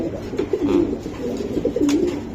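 Racing pigeons coo softly and close by, with a couple of rolling, throaty calls in quick succession.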